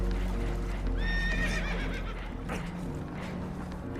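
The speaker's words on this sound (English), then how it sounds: "Horses are spooked, and we're taking on water." Spooked horses whinny loudly over a low rumbling background aboard a damaged boat taking on water in the video game Red Dead Redemption 2, with a shrill neigh near the start and hoof clatter following.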